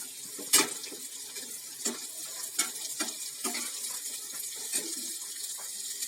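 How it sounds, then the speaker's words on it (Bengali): Chopped chili is stirred with fried onions in a cooking pan for an egg curry: a soft sizzle runs underneath while a spatula scrapes and taps the pan every second or so, close and unvoiced. "এইটাকে একটু নেড়ে"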